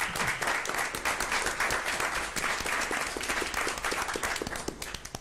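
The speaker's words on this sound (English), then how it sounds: "let's give another huge round of applause to all of our principals" A crowd at a school board meeting applauds, with dense, steady clapping from many hands sustained throughout, close and fairly loud.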